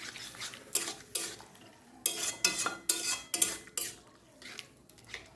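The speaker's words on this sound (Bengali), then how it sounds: "এবার এটাকেও এভাবে ভালো মতো মিশিয়ে দিচ্ছি।" Curdled milk chhena being mixed in a bowl by hand or spoon, giving a series of clinking, scraping bursts of utensil against the bowl in an uneven rhythm, close and moderately loud with no talking.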